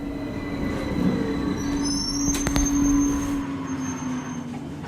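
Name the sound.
train arriving at station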